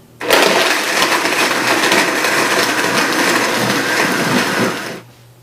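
A blender roars steadily for about five seconds as it purees organic kale and spinach into a smoothie, starting abruptly and cutting off at the end, loud and close with no voices.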